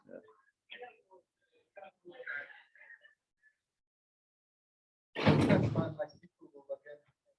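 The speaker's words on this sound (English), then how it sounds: "sure, you can close the door" A door closes in a room where a student club meeting is starting, giving one loud, close thump between stretches of quiet talk.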